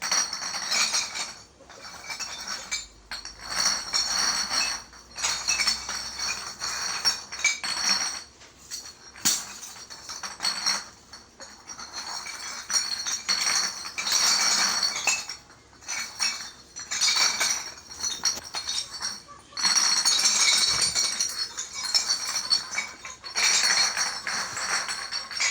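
Glass bottles are sorted by hand, giving repeated bright clinks and knocks in irregular bursts, close and fairly loud, over a steady background.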